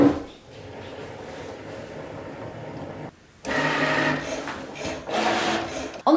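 A Cricut Maker 3 cutting machine runs as it cuts a shape, giving a steady mechanical whir with shifting motor tones, a brief pause partway through, then louder, busier movement up close.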